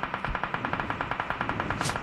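Rapid automatic gunfire in Fortnite rattles off in a fast, even stream of about twenty close, loud shots over two seconds, with no talking.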